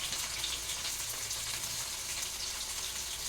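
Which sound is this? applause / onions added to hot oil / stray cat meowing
onions added to hot oil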